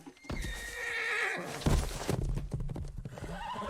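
A horse whinnies loudly in a long, wavering call, followed by snorts and hooves clopping close by.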